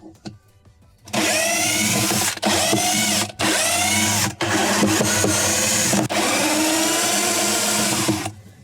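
Power driver backing out number 2 Phillips screws from the drive hub of a Whirlpool washer, several loud close bursts of whirring separated by brief pauses, no talking.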